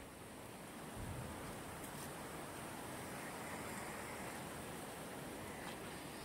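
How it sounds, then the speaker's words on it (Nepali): A river rushes steadily past a market bridge, a constant broadband wash of flowing water that stays even and unbroken throughout, with no voices. "यहाँ चाहिँ खोलाहरू बगिरहेको छ"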